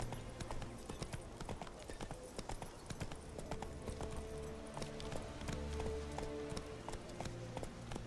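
Geralt's horse Roach trotting in The Witcher 3: Wild Hunt, a steady rhythmic clip-clop of hooves close by, continuous over a low ambient game soundscape.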